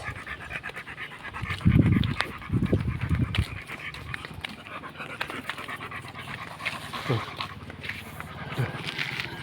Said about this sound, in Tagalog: hingal siya